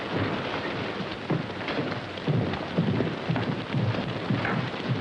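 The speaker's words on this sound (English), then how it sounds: "that depends on how long the storm lasts" A thunderstorm in a 1939 film pours heavy, continuous rain, with low rumbles of thunder rolling beneath the dense hiss at a moderate level and no voices heard.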